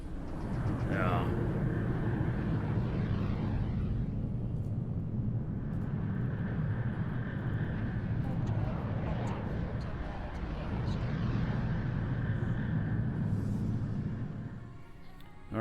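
Steady aircraft engine drone from Microsoft Flight Simulator, a continuous loud propeller-plane hum holding throughout with slight shifts in pitch and a brief dip near the end.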